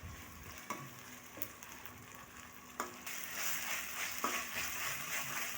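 Ginger garlic paste frying in a pan, a steady soft sizzle with occasional sharper crackles and light scraping taps, moderately close with no talking.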